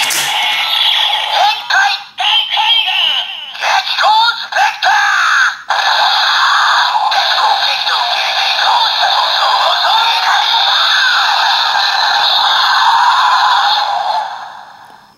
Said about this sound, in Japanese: こんな、なんか、結構スペクターもう叫んじゃってますもんね。 叫び声ですよ。